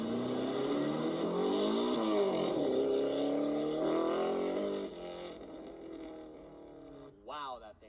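A car engine revs up loudly and holds a high roar, then eases back to a lower idle before a short final blip of throttle.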